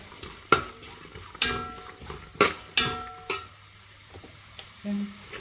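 Sliced onions sauté in a pan for a street-stall style fry, a low sizzle punctuated by five or six distinct clinking, scraping stirs of a metal spoon, close up, then quieter stirring.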